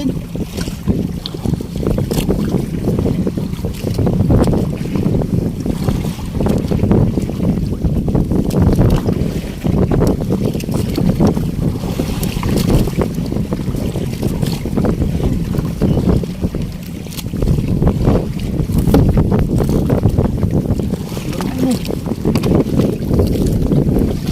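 Strong wind roars across the microphone at sea aboard a fishing boat hauling nets, with a low, gusting rumble and water sloshing, continuous and loud throughout with occasional surges.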